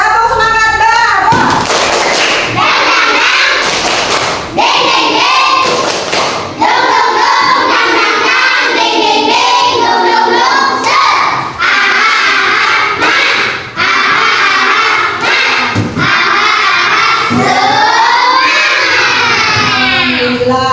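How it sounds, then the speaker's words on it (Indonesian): A group of children and adults perform the tepuk semangat spirit clap together, with loud rhythmic clapping, thumping and shouted chanting from a close, energetic crowd. "Sok, tepuk semangat bareng dulu ya."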